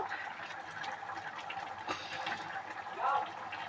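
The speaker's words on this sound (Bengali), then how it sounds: "দেখো ঝোলটা ফুটে উঠেছে" Ghugni gravy boils in a pot, giving a steady, soft watery bubbling hiss with a slightly louder bubbling swell near the end, faint and without speech.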